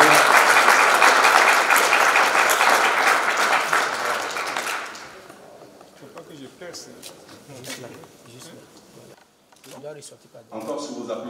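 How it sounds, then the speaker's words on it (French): Loud, dense applause from an audience at a formal award ceremony during a state dinner fills the first few seconds, then thins into scattered claps, camera clicks and murmuring voices. "Encore sur vos applaudissements"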